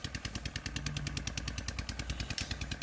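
A small engine pulling two harrows through a flooded rice field, chugging in a fast, even pulse with a rattling clatter, loud and close throughout.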